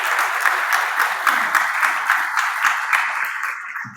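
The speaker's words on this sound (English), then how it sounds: "Guys, give him a round of applause," Audience applause for a panelist at a product security conference, a brisk burst of many hands clapping that holds steady and then tapers off within a few seconds.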